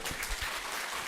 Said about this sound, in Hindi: जोर से ताली बजाओ, जोर से।